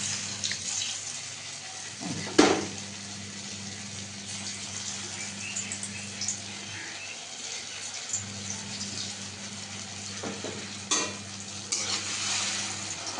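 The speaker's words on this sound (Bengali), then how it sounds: "এবারে এই বড়াগুলো একে একে কড়াইতে দিয়ে দেবো" Chhana boras frying in oil in a kadai, a steady close sizzle running throughout with a sharper crackle and splash as pieces go in, and occasional soft clinks of a spatula.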